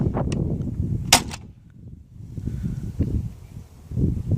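A foam dart launched from an Xplorer Xzeus dart blaster on a flat shot: one sharp, brief pop near the start, set among faint outdoor rustling and breathy background noise.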